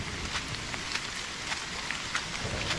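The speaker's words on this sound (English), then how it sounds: "I know it's raining rather hard, plus the thunder." Heavy rain falls in an Appalachian forest during a thunderstorm, a dense faint hiss with scattered drop taps and no clear thunder clap, no voices.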